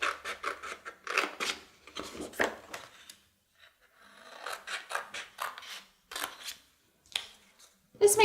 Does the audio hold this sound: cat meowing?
no